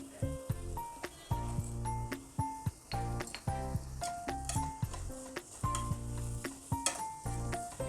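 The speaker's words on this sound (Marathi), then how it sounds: "एक तीन ते चार मिनटं आपण ह्या मिडियम फ्लेमवर सॉटे करून घेणार आहोत" Vegetables for veg chowmein sauté in a pan over a medium flame, with continuous sizzling broken by repeated sharp clinks and scrapes of stirring against the pan.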